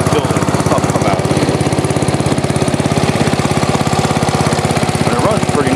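Cub Cadet 1110 lawn tractor engine running at middle throttle, close and loud, with a fast, even chugging pulse that holds steady throughout, and a voice speaking over it.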